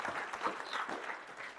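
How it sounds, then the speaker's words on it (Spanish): Audience applause at a Spanish-language album presentation, a steady wash of many hands clapping at moderate distance, sustained evenly throughout without voices over it. "un aplauso, por favor, para las palabras de Andrés"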